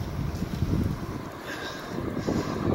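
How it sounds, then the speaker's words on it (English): Breezy wind buffeting outdoors while cycling on the Hornsea Trail out of Hull on a hot day, a steady low rushing roar with microphone wind noise throughout, no talking. "It's very hot but very breezy too, so it's keeping the temperature down."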